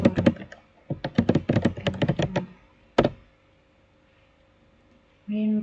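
Rapid clattering keystrokes on a computer keyboard while entering a line of code, then a single firm thunk of the enter key, followed by quiet and a brief voice at the end.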